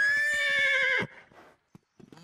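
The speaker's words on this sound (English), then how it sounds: "There's Louie the horse." A cartoon horse in a kids' racing show lets out a loud, drawn-out whinny over quick clip-clop hoofbeats, then cuts off abruptly, leaving a few faint knocks.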